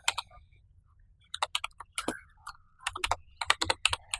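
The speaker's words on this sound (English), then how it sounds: "I will type the command search" Fast bursts of keystrokes on a computer keyboard entering a command, close and clear, with short pauses between runs of typing and no talking.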